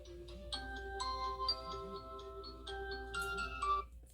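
A phone rings with a quiet electronic melody of short repeating beeps, heard on its own without any voices.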